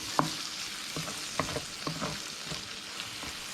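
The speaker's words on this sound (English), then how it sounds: "We're just going to saute that just for a little bit, but on that medium heat, we don't want to burn that garlic." Garlic and chopped tomatoes sauteing over medium heat in a pan for Tuscan chicken, a soft steady sizzle broken by a few clear stirring scrapes and clicks, close and moderately quiet with no talking.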